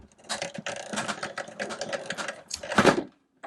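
A retractable 65 ft extension cord reel winding its cord back through an even-spooling guide, a close rapid mechanical clatter with ratcheting ticks and a louder burst near the end before it stops.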